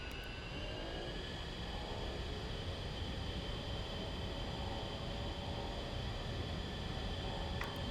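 Twin A-10C jet engines spool up on the ground in the DCS flight simulator, a steady, loud roar with a whining tone that runs on evenly and alone.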